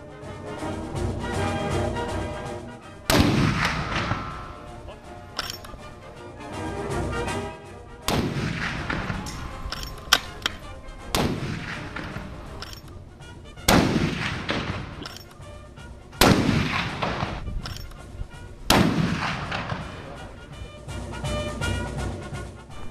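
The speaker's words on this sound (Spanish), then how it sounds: "creo que podemos ver una prueba de este fusil" Powerful sniper rifle shots from a military test firing ring out one at a time, roughly every few seconds, each a sharp boom with a rumbling echo trailing off.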